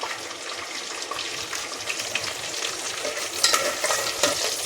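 Curry leaves drop into hot oil already browning ginger and garlic for a Chicken 65 gravy, setting off a loud, steady crackling sizzle with stirring that flares up sharply near the end.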